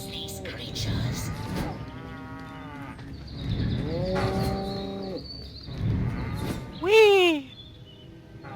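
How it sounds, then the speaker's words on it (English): Cows moo in the Destroy All Humans remake, several long, drawn-out lowing calls spaced a few seconds apart, followed by a brief high squeal near the end. "Use PK to finish off the belligerent bovines"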